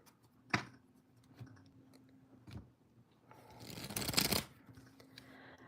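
A deck of tarot cards being shuffled, with a few soft riffles and taps early on and a louder, denser burst of card flutter near the end, close and fairly quiet.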